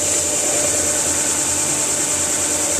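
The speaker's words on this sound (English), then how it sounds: "so we're gonna come over here to the sander" A power sander runs continuously on the ends of wooden axle pieces, giving a steady, loud, even whirring hiss with no pauses.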